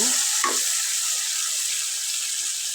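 Salted hilsa fish head frying with spices in a pan gives a steady, close sizzle, with a brief stirring scrape near the start and no talking.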